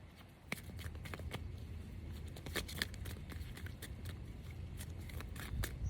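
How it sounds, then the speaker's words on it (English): Crisp, rapid riffling and flicking of wet playing cards, repeated in uneven bursts with a soft papery texture, close by and fairly quiet. "I'm hoping that I can shuffle them, but they may be still too wet"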